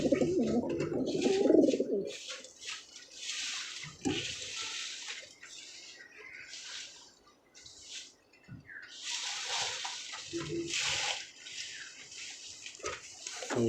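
Pigeons coo close by, a low throaty burst early on giving way to softer intermittent calls, with splashing water and bird fluttering sounds in the background and no talking.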